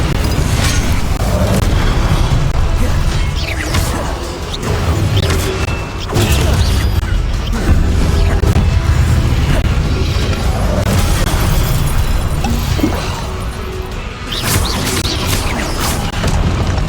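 Spell blasts in Hogwarts Legacy, including Confringo and Incendio, make a continuous roar of heavy booms and crashing bursts, loud and layered with no gaps and no voices.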